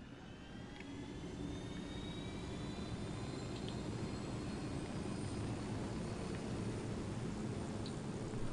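A continuous loud whirring engine roar of a helicopter in flight in a video game, steady and close, with no talk.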